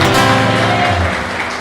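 A church congregation breaks into loud, dense applause that stays steady and close for a brief moment.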